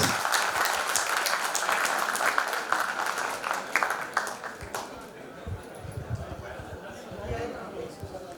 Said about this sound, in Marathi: एकदा जोरदार टाळ्या होऊन जाऊ बाईन करता